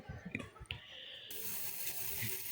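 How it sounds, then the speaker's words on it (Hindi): Water is sprayed onto a damp cloth bundle of sprouting chicken feed. A few soft low knocks come first, then a steady, close hiss of fine spray takes over for the second half. "थोड़ा सा पानी स्प्रे कर देंगे"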